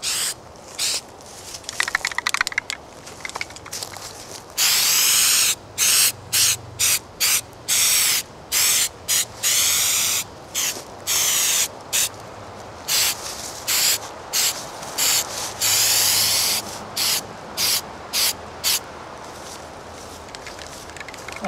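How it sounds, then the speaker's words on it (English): Paint sprays from a can over masking tape in repeated short hissing bursts, each lasting a second or so, separated by brief silences in an irregular rhythm, close and fairly loud. "I'm spraying away from the edge of the masking."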